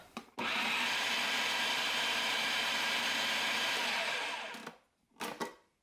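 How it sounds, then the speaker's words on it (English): A countertop blender whirs steadily for about four seconds as it gives hummus a final smooth blend, then winds down and stops, followed by a few brief clunks. "I'm gonna scrape down the sides and give it one final blend."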